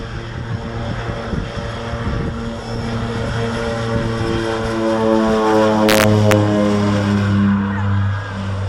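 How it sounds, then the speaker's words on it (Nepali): A propeller plane's engine drones loudly and steadily at a small airport in Ilam, Nepal, its pitch rising as it powers up nearby, with a faint voice underneath. "यहाँबाट काठमाडौँको प्लेन उड्छ है"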